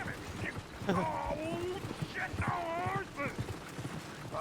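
Horse hooves clopping in Red Dead Redemption 2 during a train chase, an irregular rhythm of close hoofbeats that runs through the clip, mixed with overlapping tonal game sounds and voices.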